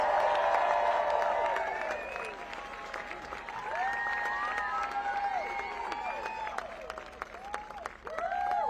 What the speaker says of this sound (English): Let's give Don a round of applause.